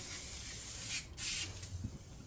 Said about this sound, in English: I will spray it with some WD-40